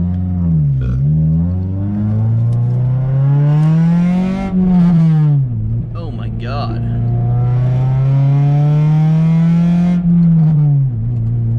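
An Acura RSX engine revs repeatedly, its pitch climbing and falling in several loud, close sweeps with a brief dip midway, and a person briefly exclaims over it.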